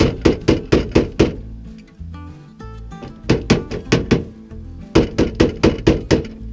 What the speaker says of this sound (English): give it a couple good taps